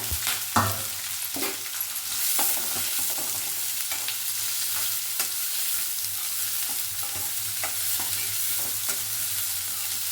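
Onion frying in a pan, a continuous sizzle broken by repeated scraping strokes of a spatula stirring, close and fairly loud, with no voices.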